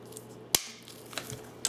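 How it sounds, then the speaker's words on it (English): A few sharp snips of strong scissors cutting wire flower stems, one loud crisp cut followed by a couple of quieter clicks, close by in a quiet room. "You want some strong type of scissors to cut because you're cutting through wire."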